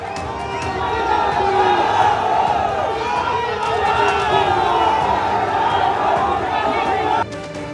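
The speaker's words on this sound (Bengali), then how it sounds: "একে অপরের বিরুদ্ধে স্লোগান তুললেন তৃণমূল ও বিজেপির কর্মী সমর্থকরা" Rival Trinamool and BJP supporters at a political rally in Pundibari shout slogans at each other, a loud dense crowd roar of chanting voices sustained throughout, cutting off abruptly near the end.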